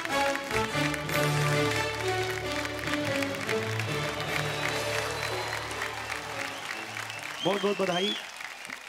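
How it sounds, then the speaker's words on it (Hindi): Sustained audience applause and cheering welcoming the best actor winner at the IBFA 2017 Bhojpuri film awards in London, loud and continuous with music underneath and a voice speaking briefly near the end. "जोरदार तालियों से स्वागत किया जाए"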